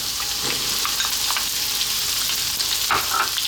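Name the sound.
onion dropped into hot pan, frying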